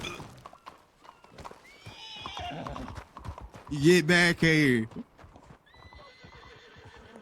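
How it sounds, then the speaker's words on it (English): In a role-play video game, a horse whinnies loudly in the middle while hooves clip-clop steadily around it, and someone speaks over the start. "Damn horse."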